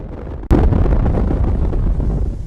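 A nuclear bomb explosion erupts with a sudden loud blast that swells into a sustained, heavy rumbling roar, like wind-blown fallout, continuing steadily to the end.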